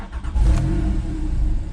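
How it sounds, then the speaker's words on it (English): A Porsche 911 Carrera S 997.2 with a flat-six engine and PDK gearbox starts up, a loud close engine catching and rising into a deep steady idle rumble. "What I'll do is I'll start the car"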